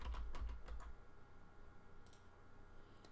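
Computer keyboard keys tapped while working in an Excel spreadsheet, a short cluster of soft clicks early on followed by a few faint isolated taps, quiet and close.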